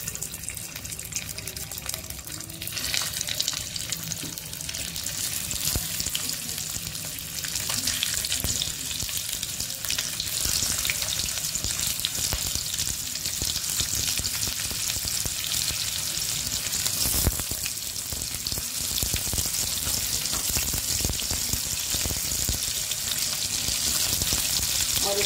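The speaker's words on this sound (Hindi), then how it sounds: "तेल गरम हो गया है तो मैं इसमें डाल रही हूँ ये परवल।" Stuffed pointed gourd (bharwa parwal) fries in hot oil in a pan, a steady, dense sizzle that crackles loudly and continuously throughout with no talking.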